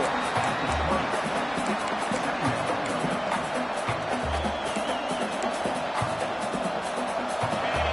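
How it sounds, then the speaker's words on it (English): Steady stadium crowd roar from College Football 26, Michigan vs. Ohio State in overtime, a dense continuous wash of noise that swells slightly while an announcer talks over it. "This crowd knows this defense needs them right now."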